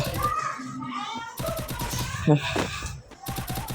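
Rapid bursts of automatic gunfire ring out in a shooter video game, with a UMP among the weapons in play. The bursts come in stuttering runs at close range while a young voice talks over them.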